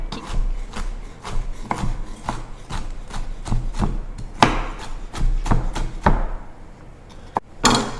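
A knife chops macadamia nuts on a cutting board in steady, rhythmic close-up strikes, about a dozen sharp chops with a few quick taps between them and no voices.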